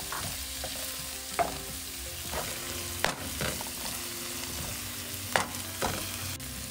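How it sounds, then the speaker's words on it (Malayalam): Garam masala powder and thinly sliced tomato sauté in a spice masala for Kerala fish molee, giving a steady close sizzle broken by several sharp stirring scrapes and knocks against the pan, with no talking. "ഇത്രയിട്ട് നന്നായിട്ട് മൂപ്പിച്ചെടുക്കണം"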